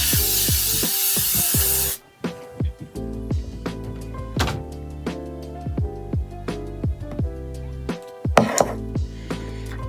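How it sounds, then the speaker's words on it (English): Makeup setting spray mists out in one close, continuous hissing burst lasting about two seconds and then stops abruptly, followed by scattered light knocks and clicks. "let's finally do our setting spray"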